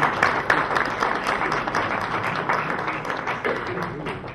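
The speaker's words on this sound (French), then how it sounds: "merci de l'applaudir" Audience applause at a literary talk, dense continuous clapping from a crowd, steady and moderately loud, with some voices mixed in.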